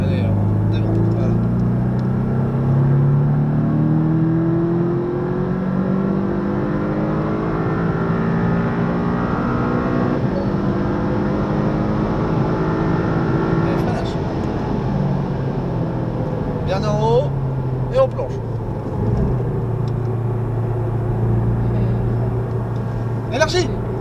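A Porsche 718 Cayman race car on the Le Mans circuit: a steady, loud engine drone rises and falls in pitch through gear changes, heard from inside the cabin with a person talking over it.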